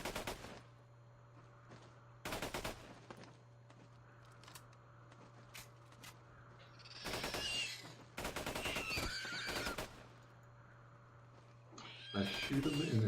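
Gunfire in the video game Borderlands 2, several short bursts of rapid automatic shots scattered over a low steady hum, with sharp effects layered in and a voice talking between bursts.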